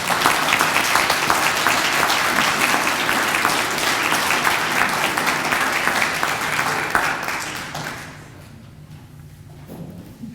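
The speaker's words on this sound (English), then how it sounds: "Let's give them another round of applause." Induction ceremony audience delivering a sustained round of applause, loud and full for about eight seconds before fading out, followed by a few thumps and quiet room noise.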